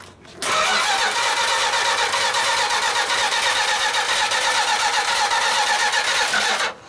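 A 1958 Ford F100 truck with a 383 Mopar engine fires up after a brief pause and settles into a loud, steady, close running roar for several seconds before cutting off.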